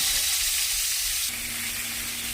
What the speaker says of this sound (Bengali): এবারে কেটে রাখা বেগুনগুলো ভেজে নেব।